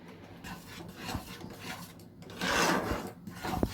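A spoon scrapes and rasps steadily through thick mango sandesh paste with mango pieces in a pan, the rubbing strokes close and continuous, swelling louder toward the end.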